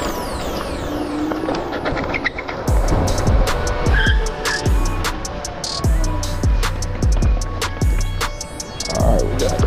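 Cars rush past on a road, heard from an electric scooter (Wolf King GT Pro) riding along, with repeated swooshes of passing traffic over constant wind and motor noise.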